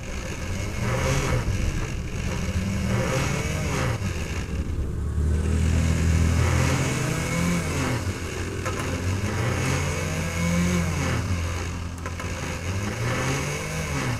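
A Baltra water dispenser's motor hums continuously up close, its pitch wavering in slow rising and falling swells with a few clicks throughout.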